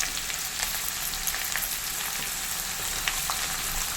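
Shallots and chopped potatoes frying in hot oil for a jackfruit seed curry, a steady close sizzle and crackle with small pops throughout, no voices.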